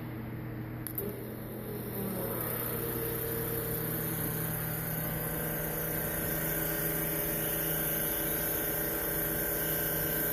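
A steady electric whine and hum runs without a break, an electric fuel pump pressurizing a fuel system, droning evenly and close by with no voices.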